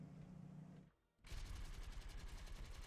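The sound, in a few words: D.Va's mech gunfire in Heroes of the Storm video game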